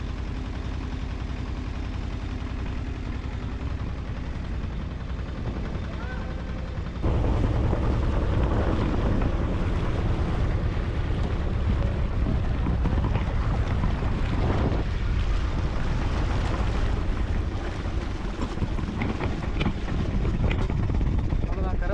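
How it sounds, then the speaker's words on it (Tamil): Motorboat crossing a river in Kerala, a constant engine drone blended with heavy wind buffeting on the microphone that grows stronger partway through, with no break in the noise. "இந்த போட் தான் ஒரே வழி."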